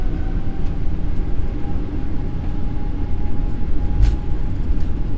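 Steady, loud low rumble of a Boeing 777-300ER on its takeoff roll as heard from the cockpit, a continuous engine and runway roar with a faint tone above it and one brief knock near the end.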